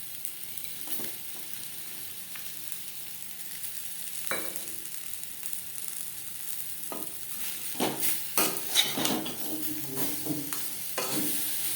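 Mango pieces lightly frying with jaggery while being stirred, a soft hiss under intermittent scraping and clinking of the spoon, growing busier toward the end, no voices.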